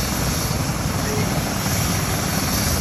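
A helicopter's rotor and engine roar steadily and loudly up close at a park landing and take-off, a dense continuous thrum filling the whole stretch.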